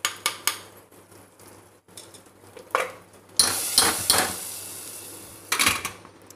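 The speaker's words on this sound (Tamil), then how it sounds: "இந்த பெருங்காயம் வெங்காயம் வெங்காய வடகமெல்லாம் நல்லா இந்த எண்ணெயில் பொரியணும்" Asafoetida, onion and sun-dried onion vadagam frying in oil for a black bean kootu, with scattered metallic clinks and scrapes of a spoon stirring in the pan, some louder bursts over a faint background.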